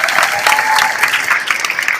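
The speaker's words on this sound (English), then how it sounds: "Let's give them a round of applause." Loud, close applause from a success-forum audience, a continuous crackle of many hands clapping with no pause across the short stretch.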